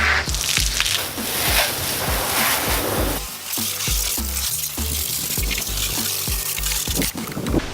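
Liquid pours steadily into a foam cannon bottle, a continuous hissing, splashing stream that stays fairly loud and close throughout with no talk.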